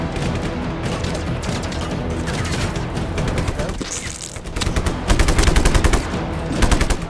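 Dense automatic gunfire from the Just Cause 3 action game, rapid bursts and heavy rattling shots running continuously with a louder volley near the end, loud and close.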